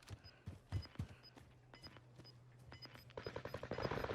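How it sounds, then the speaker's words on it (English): Rapid bursts of gunfire from a Call of Duty Warzone match, clustered sharp shots early on, then denser and louder automatic fire building toward the end, with no talking. "Gunshots go off."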